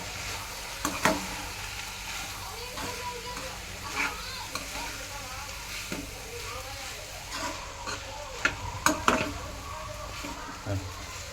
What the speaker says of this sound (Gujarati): હવે આપણે બધું મસ્ત મિક્સ કરી લઈશું સરસ હલાવી અને મસ્ત મિક્સ થઈ જાય ત્યાં સુધી આપણે હલાવવાનું છે આને